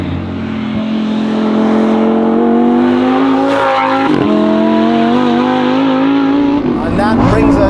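A Lamborghini Huracán STO fitted with a Novitec exhaust revs loudly and close, its engine note climbing high with a brief drop midway before surging again.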